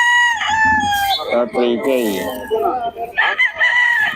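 Several roosters crow loudly and close, overlapping calls one after another, with a brief spoken remark mixed in.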